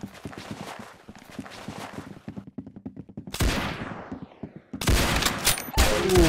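Video game gunfire from Roblox Arsenal, with rapid bursts of shots, a steady stream of clicks and pops at first, then louder blasts and a sweeping whoosh near the end, all close and loud.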